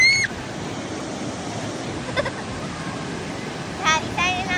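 Ocean surf at Huntington Beach washes in a soft, continuous hiss, with brief high chirps at the start and end.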